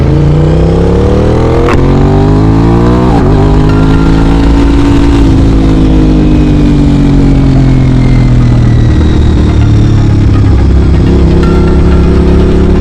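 A 2023 Indian Darkhorse Pursuit motorcycle engine runs loud and close while riding, a deep continuous drone with rising and falling revs and gear-change shifts, plus heavy wind rumble.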